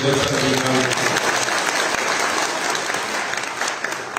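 Audience applause at a Punjabi poetry gathering in Islamabad, a thick, sustained roar of many clapping hands, loud and close throughout, with a brief trailing voice at the start beneath it.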